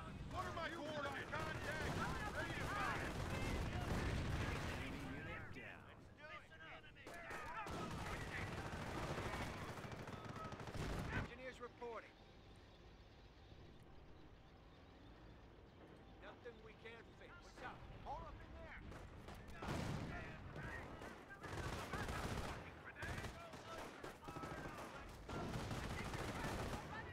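Gunfire and artillery fire in the Company of Heroes 1 World War II strategy game, a dense loud barrage of shots and blasts that swells, drops off briefly mid-way, then returns, with players talking over it.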